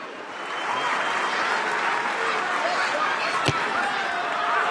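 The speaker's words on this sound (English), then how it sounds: "There's a resounding applause here for the SAA captain as he walks off" A rugby stadium crowd at South Africa 'A' versus England Saxons applauds in a broad, sustained wash of clapping for the departing captain, with a commentator talking over it.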